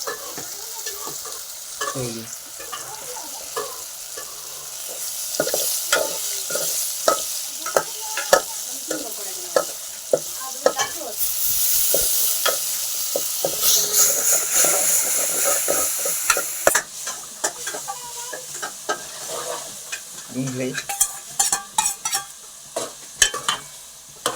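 Tempered baingan bharta (olo) stir-fried in a pan, with steady crackling sizzle broken by repeated scraping and clattering stirring strokes, close and fairly loud, no talking.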